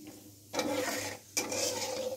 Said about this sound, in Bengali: অল্প পরিমাণ 5 ফোঁটন দিলুম। 5 ফোঁটনটা একটু নেড়ে নেড়ে লাল করে নেব।